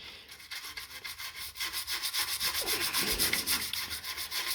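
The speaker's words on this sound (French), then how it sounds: "Oh, je dois frotter ultra fort." A coin is scrubbed hard to clean it, producing close, rhythmic abrasive strokes with a gritty scratching texture, getting faster and louder partway through.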